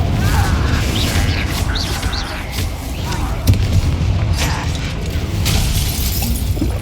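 A Bombarda spell bursts in Hogwarts Legacy combat, a loud crashing, shattering blast with debris clatter that blends into sustained, dense battle noise.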